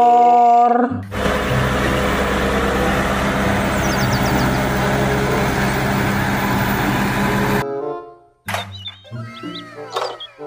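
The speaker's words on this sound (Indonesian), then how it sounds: "traktor." A toy tractor's electronic engine roar, a loud steady rumbling drone lasting several seconds close up, then cutting off, followed by scattered clicks, chirps and short electronic toy noises.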